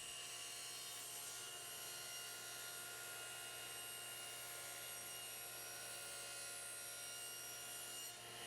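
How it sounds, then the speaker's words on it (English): A table saw ripping through a 3/4 inch plywood sheet in a home shop, a faint, steady whirring cut with a constant motor hum running evenly throughout, with no voices. "I'm just cutting a 3/4 inch sheet of plywood here."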